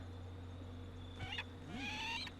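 A gyrfalcon's call in The Sims Medieval: a short rising-and-falling cry with a second shrill squawk, heard alone over a steady game ambience hum.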